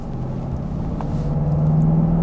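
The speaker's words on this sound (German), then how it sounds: "8-Zylinder Maschine spürt man gut, da können wir auch gleich mal drauf treten und zeigen euch das mal." Steady low engine drone from a 1992 Mercedes 560 SEC V8 under throttle, rising slightly in pitch and loudness as the car gathers speed, heard from inside the cabin with no talk.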